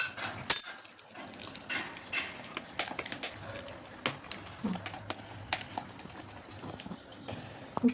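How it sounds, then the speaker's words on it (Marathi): Cake batter for a Dark Fantasy cake whisked in one direction in a bowl: irregular, close taps and clicks of the whisk against the bowl's sides, a brief louder clatter at the start, no talk. "फेटत असताना एका साईडनेच आपण फेटून घ्यायचं आहे बेटर"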